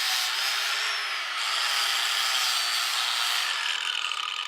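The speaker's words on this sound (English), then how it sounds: "So we use the skill saw to rough out the shape." A circular skill saw rips through a board of hard maple while roughing out the shape of a flatbow, giving a steady, close, rasping whine that holds for several seconds, with no voices.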